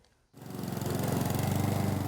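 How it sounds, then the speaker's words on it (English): A petrol lawnmower starts up after a brief quiet moment, its engine settling into a steady, loud pulsing hum that runs on close by. "The start of spring brings the familiar hum of the lawnmower"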